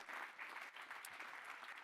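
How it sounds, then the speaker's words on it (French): An audience claps steadily in warm applause, a dense patter of many hands continuing throughout. "On peut vous applaudir chaleureusement et vous remercier."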